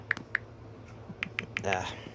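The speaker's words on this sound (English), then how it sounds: "I'm just trying to type." Clicky taps on a computer keyboard, a few separate strokes followed by a short quick run, close and fairly quiet over low background hum, with no talking.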